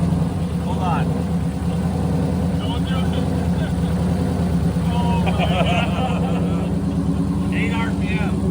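A turbocharged Ford Mustang's Coyote V8 cranks and catches, its engine turning over with a steady, low, rumbling drone throughout, while voices talk nearby.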